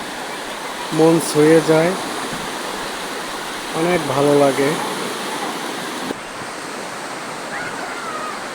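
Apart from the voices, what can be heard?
sea waves and wind at Kuakata beach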